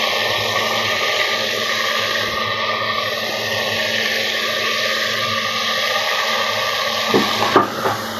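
Basmati rice stirred and fried in ghee in a pan gives a steady, close hiss of sizzling grains that runs evenly throughout, with a few brief scraping knocks near the end.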